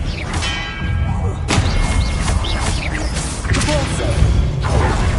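Spell being cast in the video game Hogwarts Legacy: loud magical whooshes and heavy thuds with crashing bursts over a dense, busy game soundscape, close and continuous.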